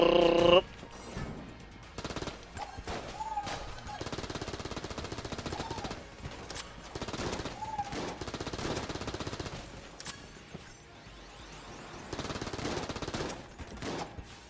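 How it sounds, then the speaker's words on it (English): Rapid automatic AK fire sounds in Enter the Gungeon: a dense, steady stream of shots runs under game music for the whole stretch. "Oh, nice shooting, Tex."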